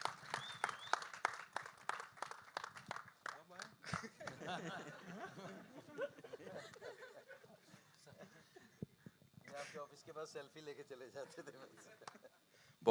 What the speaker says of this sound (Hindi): रोहित सर के लिए एक बार जोरदार तालियां हो जाए